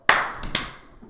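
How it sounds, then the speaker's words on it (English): A small group of friends claps in unison, two sharp, close bursts a fraction of a second apart, each fading quickly, with no talk. "Alright, let's do a real clap."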